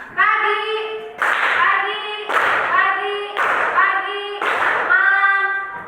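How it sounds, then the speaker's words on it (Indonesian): A class of children claps a rhythmic concentration pattern in a classroom, crisp group claps in repeated bursts alternating with their chanted voices, loud and close. "kita tepuk konsentrasi dulu ya"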